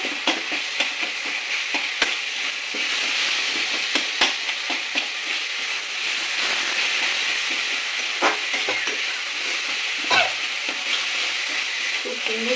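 Tomatoes are mashed with a spatula in sizzling spiced oil, a continuous bright frying hiss broken by frequent scraping and stirring clatters against the pan.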